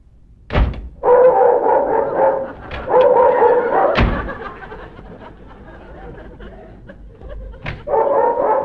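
A dog barks nearby in sharp single woofs with gaps between them, each bark followed by a short rumbling burst, over a quiet murky background.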